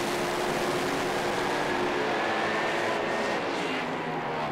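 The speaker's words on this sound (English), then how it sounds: "We'll hear them bring the revs up as they bump these cars into stage. Let's just listen to these engines." Slam race car engines at a Benaraby drag meet roar loudly and continuously as the revs are brought up during staging, a dense, droning blare that holds near and strong throughout.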